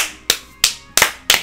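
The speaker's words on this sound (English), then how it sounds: "That's me applauding now." One person claps four times in a steady, evenly spaced rhythm, each sharp clap close and clear with quiet gaps between.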